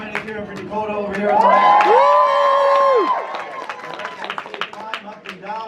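A crowd at a lumberjack show cheers for competitor Dakota, swelling into a loud sustained roar with whoops and whistles before breaking into scattered claps and shouts.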